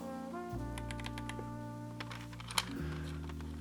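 Someone types on a mechanical keyboard, giving a quick run of light, close clicks of varying strength over a steady background hum.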